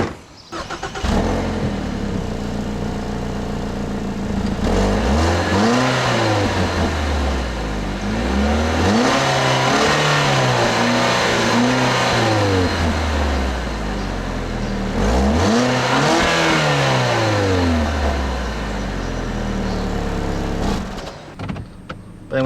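A 2013 Ford Escape S FWD with a 6-speed automatic accelerates hard twice, engine pitch climbing and dropping through rising gear shifts, loud and close inside the cabin with no talking.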